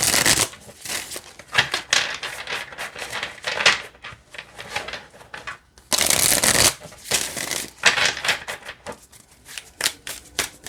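Oracle cards being shuffled repeatedly, crisp riffling bursts with brief pauses between, close by.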